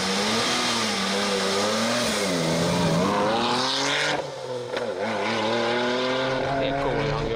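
A Subaru Forester STI or Mitsubishi Legnum VR-4 engine revs hard and steadily on a race track, heard loud from outside the car, with pitch rising and falling through gear changes and voices faintly underneath.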